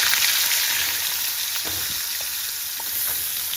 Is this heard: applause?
no